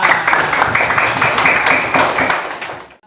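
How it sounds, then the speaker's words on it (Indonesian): A group claps together in a brief burst of applause, loud and close, stopping abruptly after about three seconds. "Tepuk tangan untuk kita semua."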